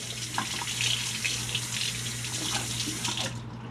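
A bathroom tap runs steadily as a shaving razor is rinsed under it, making a continuous close splashing gush with a faint low hum in the background, until the flow cuts off at the end.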